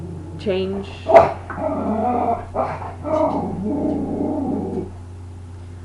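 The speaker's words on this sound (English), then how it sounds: "If you hear the growling and the barking, they're looking out the window." Dogs growl and bark while looking out a window, a close run of sharp barks and rumbling growls over a steady low hum, with a person speaking briefly.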